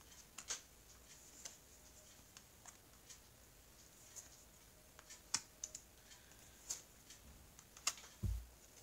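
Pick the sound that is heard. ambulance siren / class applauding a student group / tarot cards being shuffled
tarot cards being shuffled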